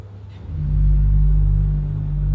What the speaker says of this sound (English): You can really hear the boomingness of the open diapason